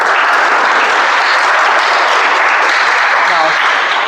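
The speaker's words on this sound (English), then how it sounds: "Give a big round of applause if you feel so." Loud, close, sustained clapping from the audience at a speech club meeting, a dense even burst of applause that tapers slightly at the end.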